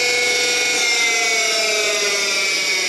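A lapidary cabbing machine for working fire agate runs at full speed, a steady high whine with strong tonal hum, loud and close, unchanging for a few seconds with no talking.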